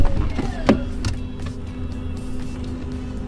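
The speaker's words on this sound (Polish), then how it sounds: "Teraz hamulec powinien być już aktywowany, zobaczmy." An electric parking brake engages in an Alpine A110S: a short whirring actuator sound inside the cabin, with a sharp click and motor whine near the start, then a faint steady hum with no talking.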